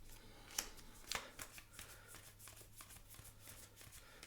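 Magic trading cards being straightened into a neat pile, with a few quick, close papery taps and riffles near the start, then a soft continuing rustle.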